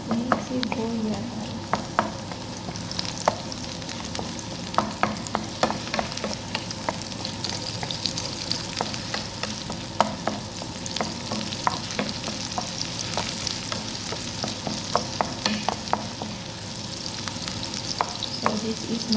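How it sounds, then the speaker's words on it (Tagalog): Onions sautéing in a pan give a constant loud sizzle, with many quick clicks and scrapes of stirring throughout and no talk. "Ito muna ang gisahin ang ating sibuyas."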